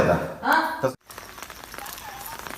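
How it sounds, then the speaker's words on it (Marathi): Light rain falls outdoors, a soft, steady broadband patter that continues after a short stretch of talking at the start. "बारीक पाऊस पडतोय"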